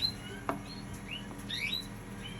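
Canary chirping indoors, several short, high, scattered tweets and brief trills against a quiet low hum, close and moderately loud, without any talk.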